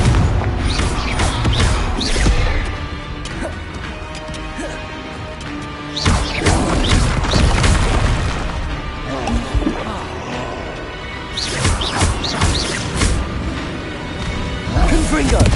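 Confringo blasting spells in Hogwarts Legacy go off in repeated loud crashes and booms, each a sharp impact with a whoosh, spread across the clip, and a voice shouts amid the game sounds.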